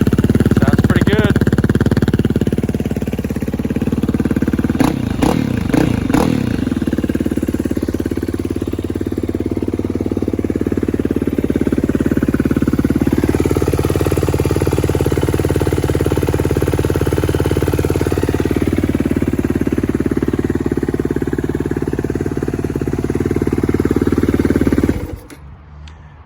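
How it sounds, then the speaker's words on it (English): A Yamaha WR450F supermoto motorcycle engine idles steadily and loudly close by, with a few quick rough revs early on and a slight shift in tone midway, then cuts off at the end. "Bike runs absolutely mint."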